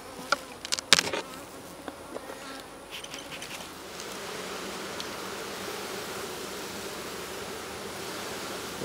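Honeybees buzz around an opened hive in a dense, continuous drone, with a few sharp handling knocks near the start before the buzzing settles into a steady hum.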